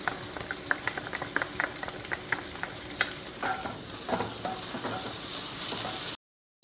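Green garlic fries in hot oil in a pan for a Gujarati spiced rotla, a steady sizzle under repeated scraping strokes of a spoon, close and even, ending abruptly with no voices.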